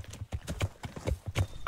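Horse hooves clip-clop in a steady, quick rhythm of about six close, distinct strikes in the video game Kingdom Come: Deliverance, heard alone without talk.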